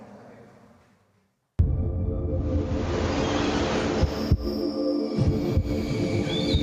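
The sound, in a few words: heartbeat sound in Marca País México tourism campaign video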